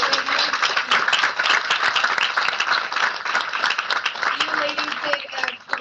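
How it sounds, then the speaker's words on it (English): Audience clapping and applause at the close of a women-in-technology panel event on AI, a steady dense patter of many hands with some voices mixed in, sustained throughout. "A round of applause, please, for all of you ladies."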